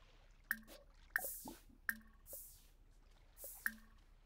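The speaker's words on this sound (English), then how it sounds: "She literally just sat the baby in a puddle of water." Soft wet squishes and drips as a baby is sat in a puddle of water in The Sims 4, several quiet splashy plops spaced about a second apart with small bright clicks.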